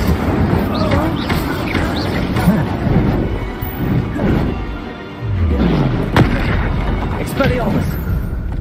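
Blasting spell explosions in the Hogwarts Legacy video game go off as heavy booms and thuds in a chaotic combat mix, with repeated impacts and a player shouting spell names over the top.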